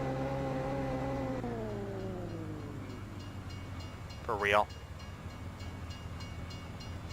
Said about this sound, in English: And there goes the train.